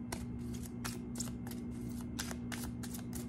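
An oracle card deck handled and shuffled, with a quick series of crisp papery riffles and slides, close and fairly soft, over a faint steady hum.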